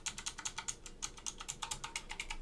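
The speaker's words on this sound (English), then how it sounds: "Let me try doing some typing." Typing on a Portable PCII keyboard fitted with Alps SKCM White switches: a rapid, uneven run of crisp, close clacking keystrokes with no talking.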